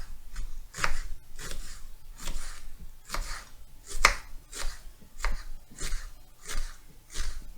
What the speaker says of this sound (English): And just chop it.